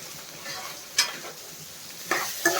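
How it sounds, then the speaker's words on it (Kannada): Raw mango pieces frying in a pan for mango chitranna, a soft steady sizzle under a few light scrapes and knocks of a spoon stirring, close and alone. "ಮಾವಿನಕಾಯಿ ಹಾಕಿ 1-2 ನಿಮಿಷ ಫ್ರೈ ಮಾಡ್ಕೋಬೇಕು"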